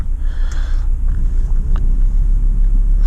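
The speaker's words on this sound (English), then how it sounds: "the engine start-stop button is on the steering wheel. Feels very supercar like, and hear it roar it into life." An Audi TT RS engine gives a steady, deep rumble up close, a continuous low growl with no break.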